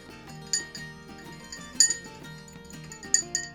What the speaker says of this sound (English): Next, we're going to stir it up to help the brown sugar melt into the cocktail.